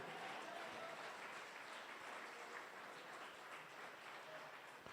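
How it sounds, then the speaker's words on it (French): A church congregation applauding during a service, dense continuous clapping from many hands heard at a distance, even and sustained throughout. "Applaudissez Jésus."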